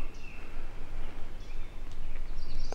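Faint, thin chirps and whistles of songbirds come from the forest of Cathedral State Park in Preston County, West Virginia. They sit over a steady wash of flowing water and sound fairly distant.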